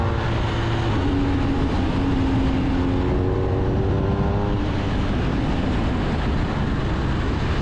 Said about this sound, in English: The engine is just superb though, loads of grunt, down low in that rev range.